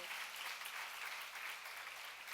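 Applause from a church congregation, a dense, even patter of many hands heard from a distance at low volume and sustained throughout.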